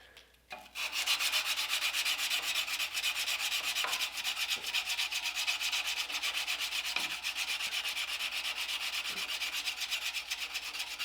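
Steady hand sanding of the flats of a knife blade with 220 grit abrasive, a continuous close scratchy rubbing with regular back-and-forth strokes after a brief quiet start.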